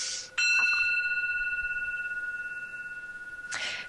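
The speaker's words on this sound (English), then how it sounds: "when you hear the sound of the bell" A meditation bell struck once, its bright metallic tone ringing out with layered overtones and a long, slowly fading sustain, alone and close by, followed by a faint rustle at the end.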